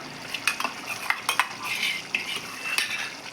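Crushed garlic drops into a pan of tomato curry with light clinks of a spoon on metal and brief stirring, soft and close, no talking.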